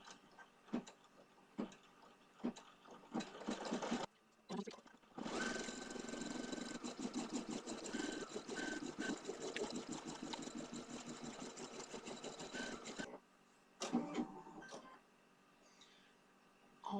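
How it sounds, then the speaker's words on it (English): An embroidery machine sews a satin stitch around a pants and jacket design, with short start-stop mechanical bursts followed by a long, steady run of rapid, close needle clatter and whir, then a few more brief bursts. "we're going to do a satin stitch around both the pants and the jacket"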